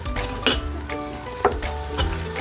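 Ground pork sizzles as it hits a hot pan for pork giniling, with a steady frying hiss and several sharp clinks of a utensil scraping and stirring against the metal, close and fairly loud.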